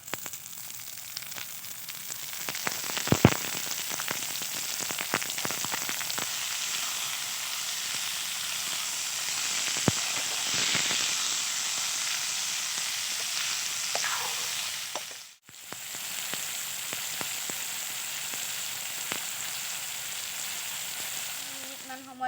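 Whole moong beans with pumpkin peel and onions sizzle steadily in hot oil, a dense continuous frying hiss with occasional scrape-like stirring clicks, close and loud throughout with only a brief dip.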